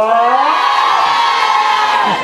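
A large TV show audience in Créteil, France cheers and shouts loudly and continuously, voices blending into a sustained roar with rising whoops.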